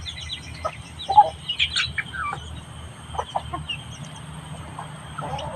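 Chickens cluck and chirp in short, scattered calls close by, with soft peeping throughout and a low steady background hum.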